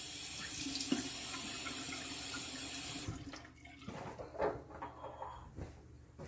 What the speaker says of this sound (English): Let me splash it one more time with water, and I'm still using cool water.